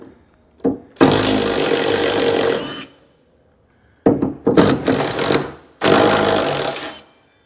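Impact wrench driving a chrome half-inch socket during rust repair on a 1973 Ford F100, heard as three loud close bursts of rapid hammering buzz, each lasting one to two seconds and separated by quiet gaps.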